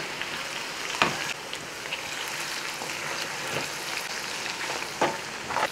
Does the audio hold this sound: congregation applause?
no